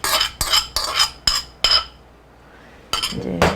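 A metal spoon knocks garlic into a pot of Korean spicy braised beef ribs in several sharp clinks. After a pause, two more scraping taps follow, close and clear.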